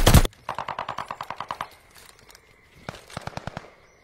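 Rapid automatic gunfire around a hardpoint in an online shooter game, a loud opening burst followed by a quick string of evenly spaced shots, then a shorter second volley after a pause.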